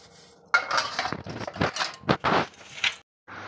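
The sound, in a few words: scrubbing brass and copper utensils clean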